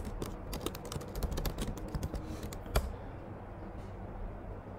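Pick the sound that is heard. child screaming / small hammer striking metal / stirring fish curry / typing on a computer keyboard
typing on a computer keyboard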